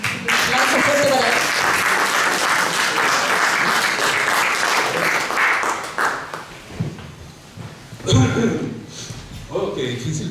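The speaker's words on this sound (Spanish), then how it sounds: "Un aplauso fuerte para él." An audience at a book launch for a work about the Allende days bursts into loud, sustained clapping that fades after several seconds, followed by a few scattered claps and thumps, with voices mixed in.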